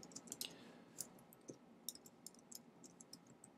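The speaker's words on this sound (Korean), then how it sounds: "제가 타이핑이 좀 느리네요." Someone types slowly on a computer keyboard, soft irregular key clicks close by and quiet, with short pauses between keystrokes.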